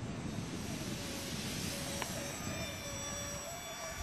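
A Pitts R/C model biplane flies at Santa Cruz Beach, California, its small engine giving a faint, steady whine that drifts in pitch over constant wind and surf noise.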